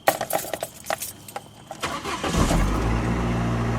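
A few light clicks and jingles come first, then a car engine cranks and catches, settling into a steady idle.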